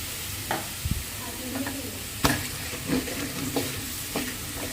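Browned potato pieces frying with a light sprinkle of turmeric, a constant close sizzle with irregular spatula scrapes and taps, including one sharp knock midway, and no voices.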